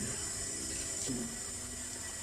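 A tap runs to rinse off an aloe cleansing balm, a faint steady trickle of water with a small splash near the middle.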